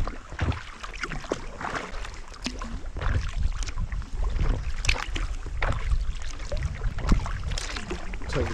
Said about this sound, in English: The new terrain for us to kayak through is marsh grass.